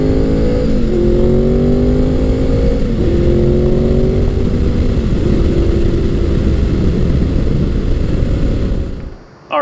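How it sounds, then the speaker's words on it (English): A 1998–2001 Gen 5 Honda VFR800 V4 motorcycle is ridden with its engine note droning loud and steady. The pitch dips and climbs through several gear shifts, then cuts off abruptly at the end. "This VFR is so capable, so confidence inspiring, so smooth, so soulful in the way that it sounds"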